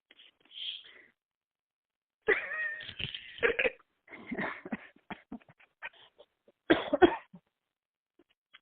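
A few short, raspy coughs and throat-clearing bursts, close by, separated by silent gaps.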